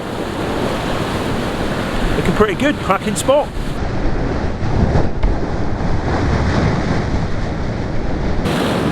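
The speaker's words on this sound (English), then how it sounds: "the waves start to build, and then woof, you know they're coming" Ocean waves break against the rocky shoreline of Saddle Cove in a continuous close roar of surf, churned by wind buffeting the microphone, while someone speaks briefly over it.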